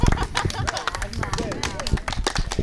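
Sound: audience applause

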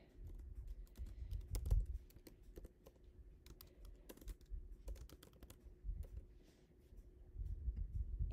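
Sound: typing text on a computer keyboard

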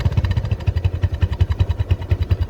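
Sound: Bajaj Discover 135 motorcycle engine idling

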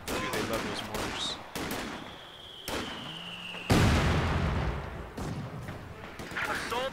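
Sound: mortar and gunfire in video game Company of Heroes 2

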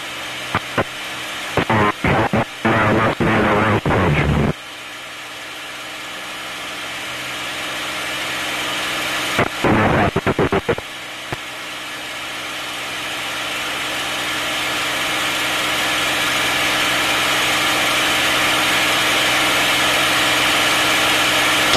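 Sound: P-51 Mustang aircraft engine in flight

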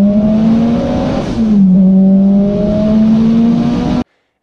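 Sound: twin engine Toyota Starlet accelerating at roll racing

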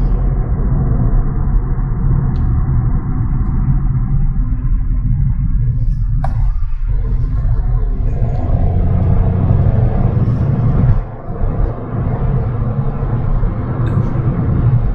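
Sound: Hyundai HB20S Platinum Plus car accelerating, quiet engine

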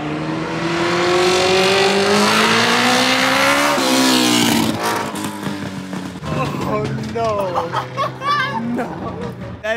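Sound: Honda CB750 cafe racer motorcycle engine revving loudly with pops

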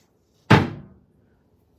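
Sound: boat hatch door slamming shut without edge guard

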